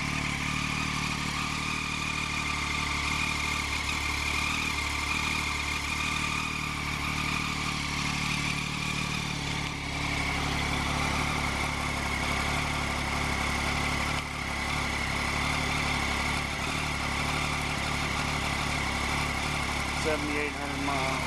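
A 2008 Triumph Daytona 675 motorcycle on its factory exhaust idles steadily with a low, continuous engine drone and slight shifts in tone, close to the microphone.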